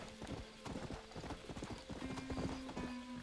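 A horse's hooves clip-clop steadily on the ground in the Western video game Red Dead Redemption, a brisk, close, even rhythm under a faint sustained musical tone, with no speech.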